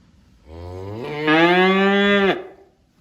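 A single mini cow on a farm lets out one long, loud moo that starts low, swells and holds, then cuts off, close by with no talking.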